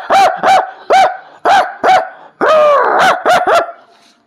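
A man vocally imitates dogs barking at a jackal in a village at night: a run of about eight loud, close, rough barks in quick rhythm, with one longer growling bark near the middle, and no other noise.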